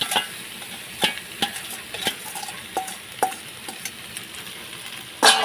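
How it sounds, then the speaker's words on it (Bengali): Pasta stir-fried in a kadai wok, with a spatula scraping and knocking against the metal in irregular strokes over a soft background sizzle, close up, with no voices. "ভালো করে নাড়াচাড়া করে নেব"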